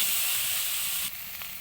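Egg, potato and cauliflower curry with chilli powder sautés in a pan, a soft, brief sizzling hiss that eases slightly near the end.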